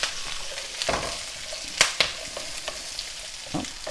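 Noodles with chicken, vegetables and mushrooms stir-frying in a hot pan, a close continuous sizzle with soft clatters as the food is tossed.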